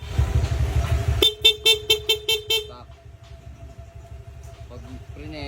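An aftermarket PIA horn on a Honda Click scooter blasts in a quick series of short, loud beeps over an idling engine rumble, then a voice talks briefly nearby.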